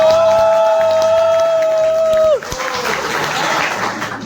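Loud audience applause and cheering at a poetry event in Lucknow, breaking out after a sustained musical tone ends and filling the rest of the moment as a dense, steady wash of clapping from a large crowd.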